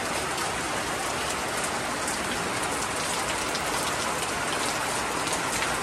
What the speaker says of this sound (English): It's been raining every day for days now.